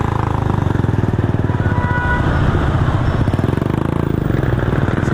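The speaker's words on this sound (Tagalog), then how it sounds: "Fatboy ay isang motor na gawa ni Honda na 160cc at 4 valves" A Honda 160cc four-valve adventure motorcycle idles loud and close, its single-cylinder putter beating in a fast, even pulse for the whole stretch, with no talking over it.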